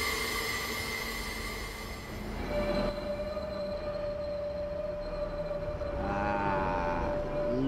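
A train slowing to a stop in Train Simulator 2017 on the Portsmouth Direct Line, with a long, sustained wheel and brake squeal over low rolling rumble, rising again in pitch toward the end.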